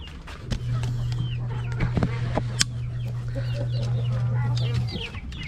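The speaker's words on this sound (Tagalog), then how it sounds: "Ayan na yung mga manok ko" Rhode Island Red chickens cluck and chatter in a coop, with scattered close calls over a steady low hum throughout.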